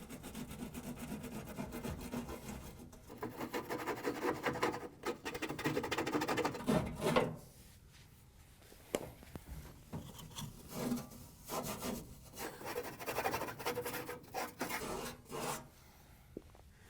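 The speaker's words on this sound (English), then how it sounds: "To get the residue off, we're going to take a nylon brush and a scouring pad and clean it up" A nylon brush and scouring pad scrub old seal residue off a Whirlpool dryer blower cover plate, giving close, rough, rasping strokes in uneven bursts, busy at first and then sparser and quieter.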